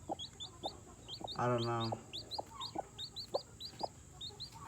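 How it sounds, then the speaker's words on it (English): Hen with a newly hatched chick clucking, soft repeated clucks and a brief drawn-out cluck near the start, mixed with high chirping peeps, close and quiet; a person speaks briefly. "She's a really cute chicken."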